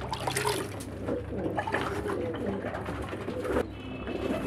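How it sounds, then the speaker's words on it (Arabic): Thirsty pigeons coo softly and steadily while flocking to a water dish, with splashing and sipping of water mixed throughout and a brief shift near the end. "الحمام عطشان كله جاي على المية وهو ده المطلوب"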